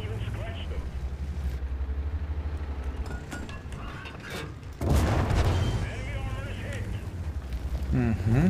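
A tank shell strikes during a World of Tanks match, piloting the STRV 81, landing as a sudden loud boom over a constant low engine rumble, with a voice talking throughout.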